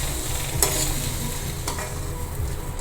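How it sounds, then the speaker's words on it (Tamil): Semolina and vermicelli roast dry in a pan while a spoon stirs them, making a soft, continuous scraping rustle with a couple of sharper strokes against the metal, close by. "இதுலேயே கொஞ்சம் ரவை வறுபடட்டும்"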